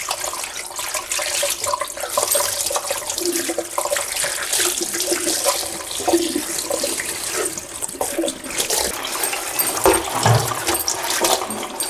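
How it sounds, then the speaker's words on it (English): Fabric samples mordanted with oak gall tannin are rinsed under a running tap before an alum bath, giving a steady rushing splash of water with shifting gurgles throughout, close and fairly loud. "So I'm going to give them a rinse before I put them in the alum bath, just to get those bits off"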